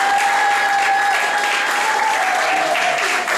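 A crowd claps at a wedding ceremony, a steady, sustained round of applause that fills the whole stretch without pause, with a faint tonal hum running beneath.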